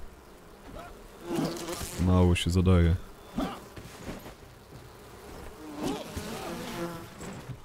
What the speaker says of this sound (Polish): O cholerka, znowu pszczoły mnie gonią.